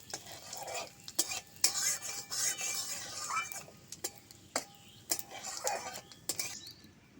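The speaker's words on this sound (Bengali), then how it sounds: "দিয়ে দিচ্ছি ফোড়নে ফোড়নটা একটু লাল লাল করে নিচ্ছি" Dry red chillies, bay leaves and whole cumin fry in oil for a fish curry, with a metal spoon clinking and scraping the pan in irregular strokes over a faint sizzle.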